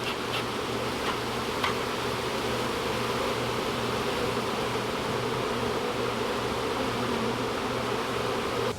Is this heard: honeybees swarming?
yes